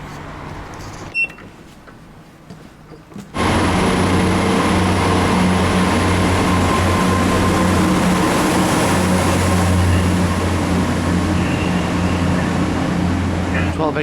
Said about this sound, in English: Train arriving into platform 5